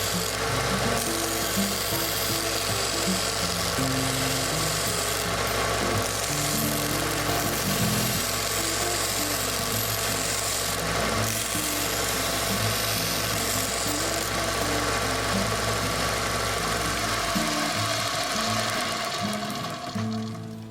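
A belt sander runs continuously as a metal spoon ring is pressed against the belt to smooth its edges, a loud, dense grinding drone with shifting rubbing tones that winds down at the end.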